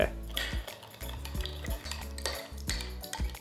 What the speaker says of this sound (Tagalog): Mas madali yan kasi na makapag-dilute o makapagpatunaw doon sa asukal at sa asin. Haluin lang nating mabuti